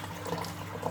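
Water splashes and trickles at a kitchen sink as a whisk is rinsed, a brief, soft, continuous wash of liquid sound with no talking.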